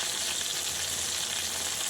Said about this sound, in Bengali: আমি পটল ভাজা করছি আর পটল ভাজাটা প্রায় হয়ে এসেছে